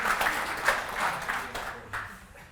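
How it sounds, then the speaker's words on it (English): Audience clapping at a tech conference talk on building .NET apps for the cloud, a fairly loud burst of many hands that swells briefly and then thins out into scattered claps before fading. "Come on, I need a clap."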